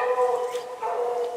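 A coon hunting dog baying at an animal up a tree during a night coon hunt, a sustained tonal howl-bark repeated twice, moderately loud and somewhat distant outdoors, with no talking.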